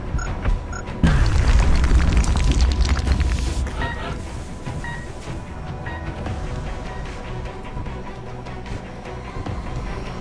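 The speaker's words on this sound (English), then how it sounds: "Wow, grenade, really?" A grenade goes off in the video game XCOM: Enemy Unknown with a loud, deep boom. The blast rumbles on for a few seconds, then settles into a lower game ambience with small clicks and tones.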